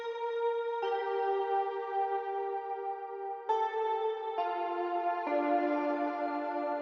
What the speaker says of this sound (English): And together, both Nexus and Serum sound like this.